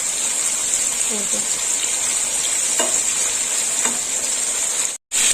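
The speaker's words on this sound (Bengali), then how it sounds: "দেখুন বন্ধুরা, চিংড়ি মাছগুলো ঠিক এইরকম ভাজা হবে।" Shrimp, peeled and deveined with the heads removed, frying in hot oil for a chingri potol dish, giving a steady loud sizzle with a few soft clinks and a brief dropout near the end.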